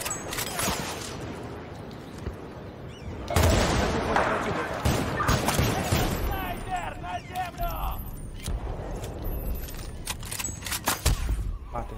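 Gunfire crackles through a Battlefield Bad Company 2 Vietnam match: scattered shots at first, then a louder, denser burst of firing. A voice speaks briefly among the shots.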